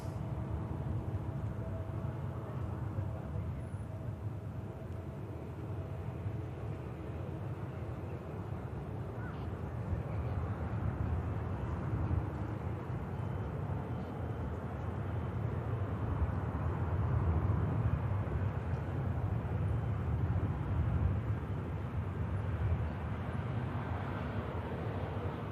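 A KLM Airbus A320neo from Amsterdam rolls off the runway at Manchester Airport via a rapid exit, a steady distant jet rumble and broadband roar that swells slightly midway, heard from afar with no talking.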